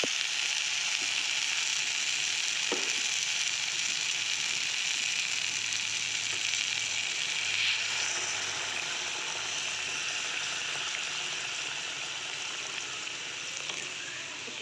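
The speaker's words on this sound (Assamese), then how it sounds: "শাক আলু আৰু বিলাহীখিনি ভাজি ল'লোঁ আৰু এতিয়া ইয়াতে মই গৰম পানী দি দিম।" Hot water poured into a pan of frying greens, potato and tomato, giving a continuous hiss and sizzle at close range with a few faint clicks, no talking heard.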